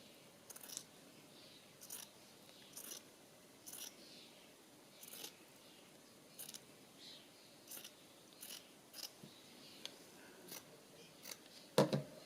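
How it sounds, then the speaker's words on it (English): Scissors snipping through a paper tag for a music journal, a dozen short crisp cuts at a steady, unhurried pace, close and fairly quiet, ending with a louder cluster of snips. "I want to cut this the same width."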